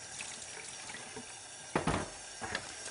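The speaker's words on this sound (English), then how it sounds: "they come with these sort of big toothbrushes. Give them a quick rinse." Running tap water rinses Oscar juicer parts as brushes scrub them, a soft, steady flow punctuated by two brief louder splashes and scrubbing bursts close by.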